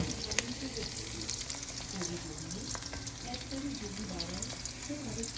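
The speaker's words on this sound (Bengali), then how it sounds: "আমি জাস্ট কড়াইতে দেখো, আমি এখন জাস্ট পেঁয়াজ দিলাম, চিকেন রান্না করব" Red onions frying in a wok as the start of a chicken curry produce a continuous moderate sizzle with stirring scrapes, steady across the whole stretch, with faint voice-like sounds underneath.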